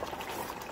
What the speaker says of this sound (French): j'ai mis la grosse marmite au feu